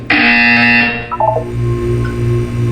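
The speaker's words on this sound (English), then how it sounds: "You will hear a buzzer." A loud electronic buzzer from the video game Portal 2 sounds alone as a steady tonal blare for about a second, then drops into a few short stepped beeps over a continuing low hum.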